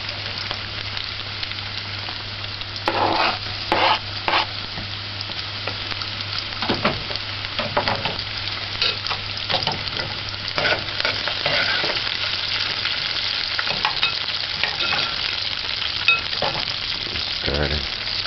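Corned beef caramelises in a hot pan for a shell macaroni dish, sizzling loudly and continuously while a utensil scrapes and stirs in irregular bursts, close up and without speech.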